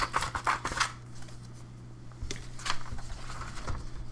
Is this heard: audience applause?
no